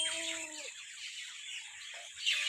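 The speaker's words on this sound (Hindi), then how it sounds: "ये पीछे आवाज़ सुन रहे हैं चिड़ियों की" Birds chirping and clucking in a desert village oasis in the Thal, with a short harmonic call at the start, then steady high twittering close by and a brighter burst near the end; no talking.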